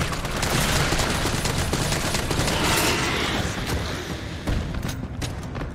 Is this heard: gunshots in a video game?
yes